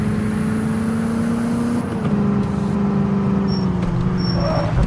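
A car engine runs steadily and loudly as the vehicle drives off, a continuous motor drone with a slight shift in pitch partway through.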